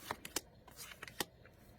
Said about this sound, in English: But the indie deck does shuffle.